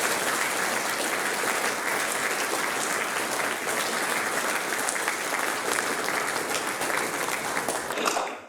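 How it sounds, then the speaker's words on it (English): Audience applause at a boys' school Year 8 prize giving: a dense, steady wash of clapping from a large crowd that holds evenly for about eight seconds before cutting off. "Let's give Sebi another round of applause."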